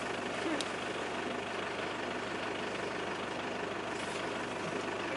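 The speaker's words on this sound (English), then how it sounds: "Okay, I'm gonna start the vehicle." On an African safari drive, a vehicle's engine rumbles at a low, steady idle from moderately close, fairly quiet and even, with a faint click near the start and no talk.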